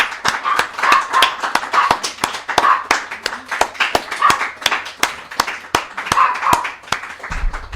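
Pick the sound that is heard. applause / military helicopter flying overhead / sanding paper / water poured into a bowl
applause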